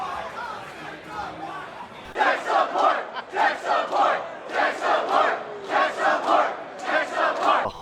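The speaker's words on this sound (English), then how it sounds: "behind me there's just this massive crowd just chanting like, where's Crush 40, where's Crush 40?" A massive convention crowd at Too Many Games 2023 chants in unison, loud rhythmic repeated phrases pulsing steadily after a quieter opening of murmur.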